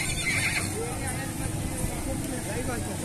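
A brown horse at a livestock market neighs loudly nearby, a shrill wavering whinny, with hooves shuffling and someone speaking over the busy market babble.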